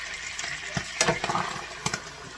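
Hot oil sizzles and spatters in a pan while masala chicken fries on a stovetop, steady crackle broken by several sharp pops and bursts, close and moderately loud.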